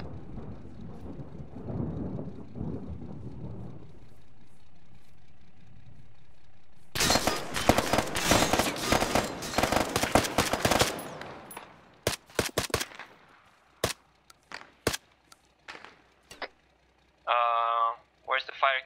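Gunfire in an Arma 3 battle, first a low distant rumble, then a dense burst of rapid automatic fire, followed by scattered single sharp shots and a short radio-like crackle near the end.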